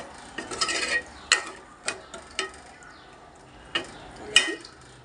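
A pot of fish curry being stirred, giving a few scattered scraping and clinking strokes of a utensil against the pot at close range, with quiet gaps between them.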